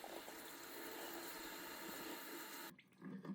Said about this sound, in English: And just really rinse it off.